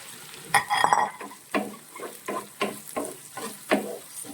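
Onions fry with curry leaves in a pan for a curry, with a soft sizzle under a regular series of scraping stirring strokes, close and clear, about eight strokes.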